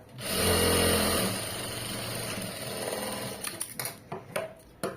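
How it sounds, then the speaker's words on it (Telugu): Sewing machine stitching through layered cloth at a corner, a loud steady whirring run at the start that eases into a quieter hum, then several short bursts of stitching near the end. "కార్నర్కి ఇంకొక స్టిచ్ కింద లేయరు పైన లేయర్ టచ్ అయ్యే చోట"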